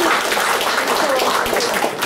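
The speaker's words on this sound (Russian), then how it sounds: "Аплодисменты, пожалуйста." Audience applause at a concert dedicated to pilots, a dense, loud burst of many hands clapping close by, filling the short stretch with steady noisy texture.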